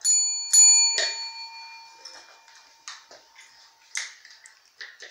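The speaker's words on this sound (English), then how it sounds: "Okay, ring the bell." A dog rings a small bell: a few bright metallic rings up front that decay slowly, followed by scattered lighter taps and clicks, close and fairly quiet, with no speech.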